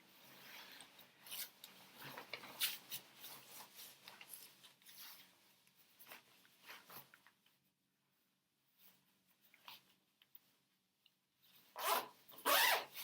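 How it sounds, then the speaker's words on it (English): A big fluffy winter coat is zipped up in several quick rasping pulls, close and crisp, with rustling of fabric between strokes, a quiet pause midway, and a final louder zip. "putting on my big fluffy winter coat. And zipping it up."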